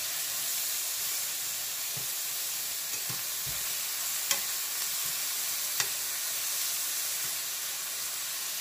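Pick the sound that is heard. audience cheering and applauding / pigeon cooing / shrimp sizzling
shrimp sizzling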